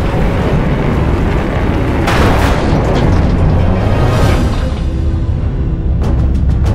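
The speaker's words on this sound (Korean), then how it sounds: "전투기가 산산조각난다." A fighter jet with a scramjet engine breaking apart in the atmosphere after overheating: a loud, sustained roaring explosion with deep rumble, bursts of crackling debris midway and sharp popping near the end.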